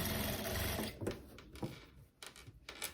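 A sewing machine stitches a small inner seam on a dress. Its motor whirs steadily at close range for about a second, then gives way to short bursts of stitching and fabric handling in a quiet room.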